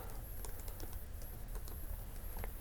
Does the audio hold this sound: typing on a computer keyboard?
yes